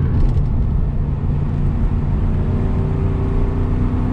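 A 1981 Porsche 928 engine drones loud and steady from inside the moving car, a dense low rumble rising gently in revs under road noise.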